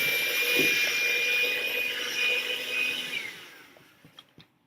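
A kitchen blender whirs steadily on its lowest setting for about three seconds, then winds down as the motor stops, followed by a couple of faint clicks.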